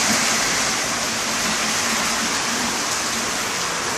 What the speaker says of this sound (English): Just getting a little rain here.